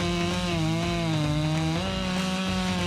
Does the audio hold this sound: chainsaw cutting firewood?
yes